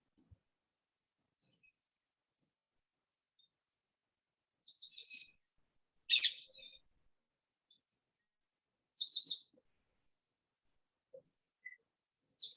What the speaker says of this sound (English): beautiful chirping.